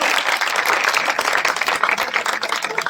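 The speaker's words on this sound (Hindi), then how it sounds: "एक बार इनके नाम पर जोरदार तालियां।" An audience at a Sri Ram temple Durga puja pandal event in Mau, Uttar Pradesh claps for an honoree, a loud, close, uneven patter of hands that stays busy throughout.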